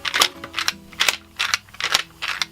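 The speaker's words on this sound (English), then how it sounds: "If you want to see an example of something rattling, I could do like, I don't know, like this" Loose pieces of a Meiji Hanayama anti-slide puzzle rattle in six quick, sharp bursts of clicking and clattering, close up and fairly loud, with brief pauses between shakes.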